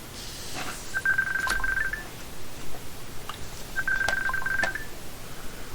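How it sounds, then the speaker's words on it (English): A telephone rings during a Magic: The Gathering white deck-building session, giving two clear electronic tone bursts about a second each, loud and close, with a steady hum underneath. "What do we have ringing?"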